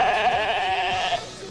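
A sheep lets out a single drawn-out bleat, loud and near, with a quavering, nasal tone that holds steady for over a second before cutting off.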